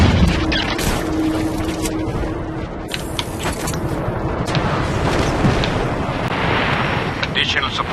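Explosions in the open-world action game Just Cause 3, a continuous dense roar of blasts and rumbling debris with sharper bursts scattered throughout, loud and close, with game dialogue faintly underneath.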